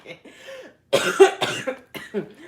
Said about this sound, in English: Hold on, I still got this COVID cough.